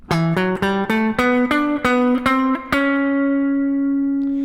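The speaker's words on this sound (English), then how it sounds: "You can hear the sound of these chords moving." Electric guitar chords sound in a quick rhythmic sequence, sliding by half steps before settling on a final chord that rings out alone.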